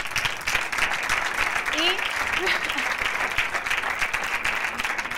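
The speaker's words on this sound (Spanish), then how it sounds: "Emprendedores, un aplauso" Audience applause for entrepreneurs at a coworking space demo day: steady, moderately loud clapping from a seated crowd, continuous throughout with faint background voices mixed in.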